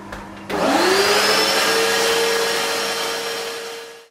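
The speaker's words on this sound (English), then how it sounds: "Now with cast, I like to vacuum as I go." A vacuum cleaner switches on abruptly and roars steadily at close range, sucking up cast iron dust while machining a 1905 Hornsby engine part, its motor whine holding for several seconds before starting to wind down.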